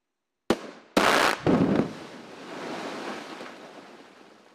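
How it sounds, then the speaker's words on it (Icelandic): Rock blasting for defence wall material: a sharp crack, then a loud, broad blast about half a second later that settles into a long, fading rumble with wind-like noise. No voices. "við þurfum að sprengja hérna töluvert mikið magna efni til að nýta í varnirnar"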